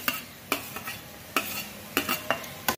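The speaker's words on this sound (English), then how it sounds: "Now we have to add French beans and tomatoes." A spatula clanks sharply against a pan in irregular strokes as French beans and tomatoes are stirred into browning onions and chilies for a chicken roll filling. A soft sizzle runs underneath and no one speaks.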